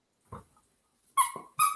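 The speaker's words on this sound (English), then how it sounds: "Is that a puppy dog in the corner?" A puppy in the corner of a sports show set whimpers in short bursts: one low, soft whine, then two louder, higher, squeaky whimpers close by, with no talk over them.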